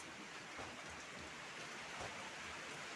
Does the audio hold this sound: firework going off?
no